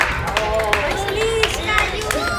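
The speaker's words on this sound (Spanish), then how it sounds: "¡Ey, aplaudan!" Sparse clapping from a small group at a youth sports team's championship awards ceremony in Chicago, with scattered claps and a murmur of voices and chatter running underneath throughout.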